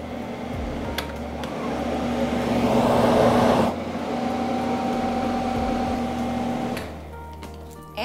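B-Air VP-33 air mover, a third-horsepower two-speed carpet drying fan, running with a steady airy whoosh and hum, swelling briefly then settling lower before easing down near the end.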